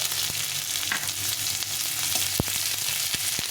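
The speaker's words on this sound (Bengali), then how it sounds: "পেঁয়াজটা একটু ভাজা ভাজা করে নিতে হবে।" Chopped onion fries in hot oil with cumin seeds for a pointed gourd dish, giving a continuous close sizzle broken by a few sharp scrapes and clicks of stirring.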